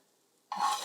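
Coconut flour fries drop into hot oil. Near-silence gives way to a sudden, loud burst of bubbling sizzle that holds steady right up close.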